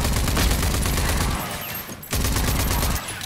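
Sustained rapid gunfire in the shooter Rage 2, loud and continuous bursts of shots crowding the whole moment with one brief lull in the middle before the shooting resumes.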